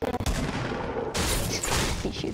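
Video game gunfire from a shooter, loud and close, with a few rapid shots at first and then a dense, continuous burst that fills the stretch with no voices.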